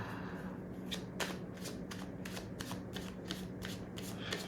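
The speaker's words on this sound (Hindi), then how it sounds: "मैं शफल कर रही थी कार्ड" Tarot cards are shuffled in rapid, evenly spaced riffles, crisp and close, repeating about ten times with a faint hum beneath and no talking.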